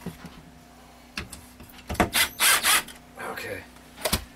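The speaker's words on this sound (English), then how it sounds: "Now, I can finish drilling this and get them deeper." A power drill works into a wooden coffee coaster in short whirring bursts after some light handling knocks, four or five close, loud spurts with a voice speaking briefly nearby.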